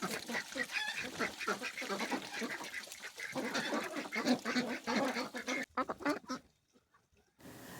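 A flock of ducks quacks busily and continuously, overlapping calls close by, thinning out to a few scattered quacks before falling quiet.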